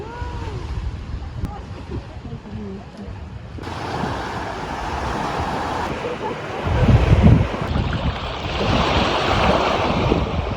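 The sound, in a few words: ocean wave breaking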